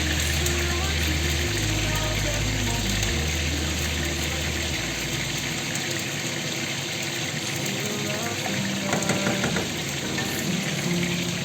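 Steady crackling sizzle of Arabic-style masaghaa frying in hot oil, with small pops and a constant hiss throughout.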